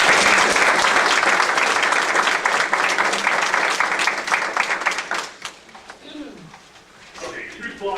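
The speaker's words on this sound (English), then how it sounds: "let's take a quick minute to give a round of applause to Leroy and Jennifer." Applause from the attendees of a workplace location-wide meeting, a loud, dense burst of clapping that holds steady for several seconds, then thins into scattered claps and fades out.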